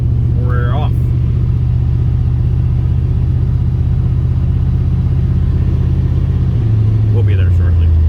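A 2008 Chevy Duramax diesel tow rig pulling away, its loud, steady engine rumble filling the cabin with a shift in tone near the end; a voice speaks briefly at the start.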